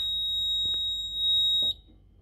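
A Hochiki ESP addressable fire alarm sounder emits a loud, steady, high-pitched electronic tone during a weekly system test, with a couple of faint knocks underneath, then cuts off abruptly, leaving near silence.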